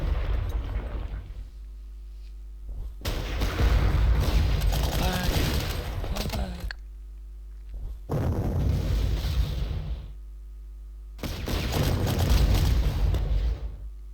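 Artillery barrages in the wartime strategy game Panzer Corps, set in the 1941 Belgrade campaign: three long, loud rumbling bursts of booming fire, each lasting several seconds, separated by brief lulls.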